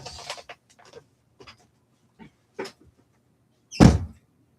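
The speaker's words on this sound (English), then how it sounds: "Let me close the door." A room door being closed indoors: a few soft shuffling and handle sounds, then a single loud, close thud as it shuts near the end, with no talking.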